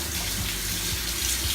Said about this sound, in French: rinçage du gant de toilette